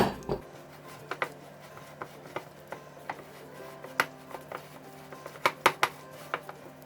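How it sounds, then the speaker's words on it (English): Cookie dough being mixed by hand in a bowl as flour is shaken in a little at a time, with intermittent clinks and scrapes of a utensil against the bowl, soft and close, with no talking. "So you can just shake a little flour in at a time and just start to mix it all together"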